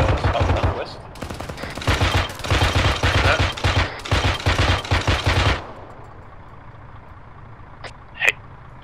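Rapid bursts of automatic gunfire in the military shooter Arma 3 rattle loud and close for about five seconds, then stop; a brief sharp sound follows after a quiet stretch.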